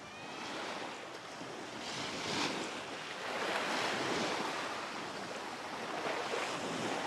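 Waves washing at the water's edge of an Aegean lagoon: steady broadband surf wash swells and recedes throughout, close and continuous, with wind noise mixed in and no voices.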